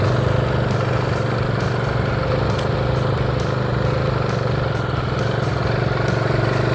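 A motorcycle engine idles and runs steadily at close range during a riding lesson, a constant low rumble holding through the whole stretch with no voices over it.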